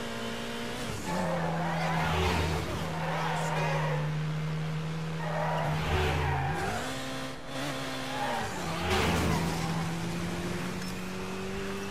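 Racing car in Midnight Club Los Angeles braking hard mid-race, a steady engine drone dipping and rising with tire noise, loud and close, with a voice talking over it.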